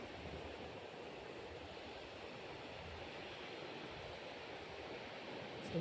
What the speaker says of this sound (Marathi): सरच धबधबे एकदम ओसंडून वाहतात